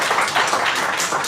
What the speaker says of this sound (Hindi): ताली बजा के एक बार स्वागत करेंगे।